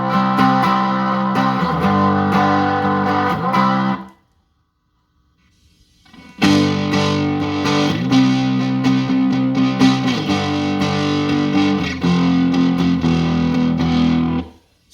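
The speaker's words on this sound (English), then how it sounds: "then you just max out the distortion" Heavily distorted electric guitar chords through a maxed-out distortion pedal, played loud and saturated, with a brief silent gap before the fuzzy, grinding playing resumes.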